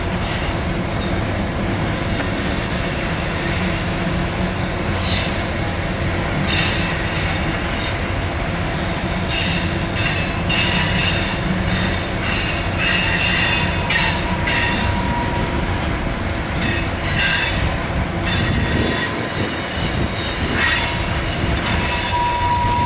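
A long BNSF hopper train rolls around a curve in Bellevue, its steel wheels grinding continuously and squealing in repeated high-pitched shrieks, loud and close throughout.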